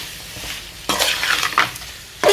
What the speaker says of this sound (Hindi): पाँच मिनट तक इसको अच्छे से भूनेंगे जी मसालों में